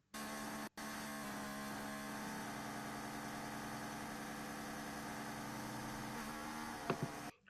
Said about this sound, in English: Pit lane rev limiter.